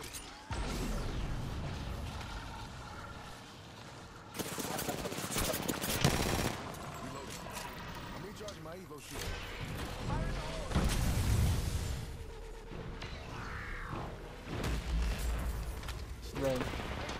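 Heavy gunfire in the battle royale game Apex Legends, including sniper shots, crackling in loud overlapping bursts with crashing impacts throughout, while a player talks over the fight.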